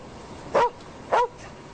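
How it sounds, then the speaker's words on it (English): A dog gives two sharp, separate barks about half a second apart, fairly close and clear against a quiet background with no talk. "Friendly dog"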